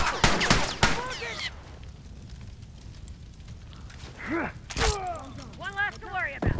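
Enemy rifle fire in The Last of Us Remastered, with sharp cracks and short bursts of shots close by, mixed with game effects and voices calling out over the action.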